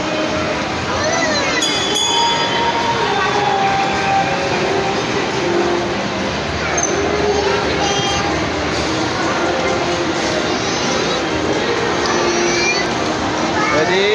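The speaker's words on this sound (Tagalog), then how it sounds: "Want to ride the train?" A train runs with a steady, continuous rumble and rattle, close and fairly loud throughout, while people talk over it.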